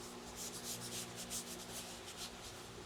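A Scrub Ninja brush scrubs a car steering wheel, giving close, soft bristle rubbing in repeated quick back-and-forth strokes over a low background hum.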